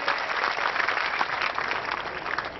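Crowd at a community centenary celebration applauds a student being honoured for exam results, a steady, fairly faint wash of clapping throughout.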